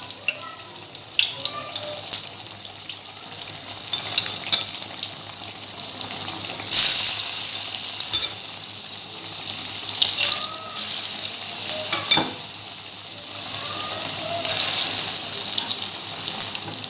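Potato pakoras fry in hot oil, a steady bright sizzle that flares louder as more battered pieces drop in one after another, with no voices.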